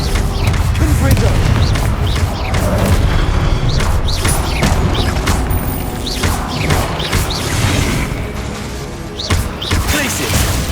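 Repeated booming explosions from the Confringo fire spell in the video game Hogwarts Legacy, with loud crashing bursts over a dense game soundscape and a voice calling out the spell.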